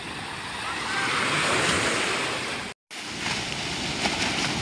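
Sea surf washes onto the shore with a constant broad rush, mixed with wind buffeting the microphone. The sound cuts out for a moment partway through, then resumes at the same loudness, with no voices.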